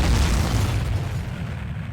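A loud, deep explosion sound effect booms at once and then rumbles away over two seconds with no voices.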